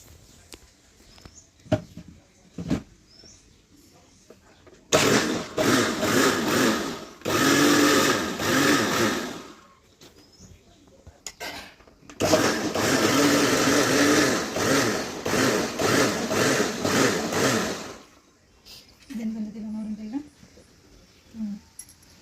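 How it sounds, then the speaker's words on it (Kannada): A kitchen mixer grinder churns cream with water into butter, whirring loudly in two long bursts separated by a short pause, with quieter stretches of talk before, between and after the runs. "ಈಗ ಇದನ್ನು ಮಿಕ್ಸರ್ ಮಾಡ್ಕೊಳ್ಳೋಣ"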